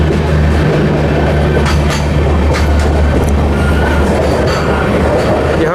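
Amrit Bharat Express train running at speed on the main line into Durg, a loud constant rumble with rhythmic wheel clatter, heard from on board at close range with no voices.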